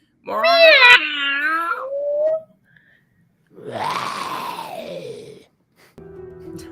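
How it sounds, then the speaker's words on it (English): A loud cat meows twice in long, wide-open yowls, the first strained and drawn out, the second lower and rougher, with a brief gap between and a faint trailing sound at the end. "The cat is very loud. It's a very yappy cat."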